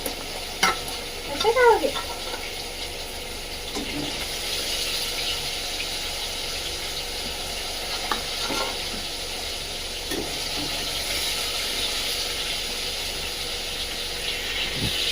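Fish frying in a pan gives a soft, continuous hiss and sizzle. A voice speaks briefly early on, and the frying carries on alone afterward.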